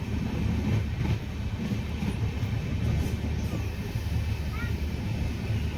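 Tambaram to Rameswaram Express train running near Pattukkottai, heard from inside with a loud, steady low rumble and rattle of wheels on track, occasional faint squeals and clacks, continuous throughout.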